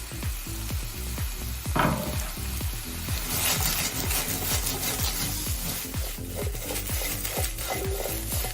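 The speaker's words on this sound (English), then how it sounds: "we can add these into the pan along with our meatballs" Meatballs, baby corn and button mushrooms fry in a pan, giving a steady hiss with a rhythmic scraping or stirring that repeats several times a second. It runs the whole time at a moderate, close level, with no one talking.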